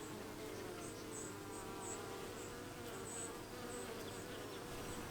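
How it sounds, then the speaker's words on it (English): Honey bees buzz around their hives on an Australian homestead garden, a faint, continuous drone of many insects with no one talking. "I love seeing at the moment all of the little pollen bags as they come in."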